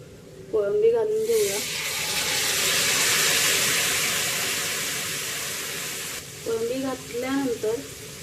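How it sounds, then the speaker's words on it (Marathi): Shrimp sautéed in a spice masala sends up a steady hissing sizzle that swells and fades through the middle, with a person speaking briefly at the start and again near the end. "कोळंबी मसाल्यामध्ये परतून घेऊया"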